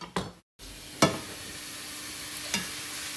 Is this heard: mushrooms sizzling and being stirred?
yes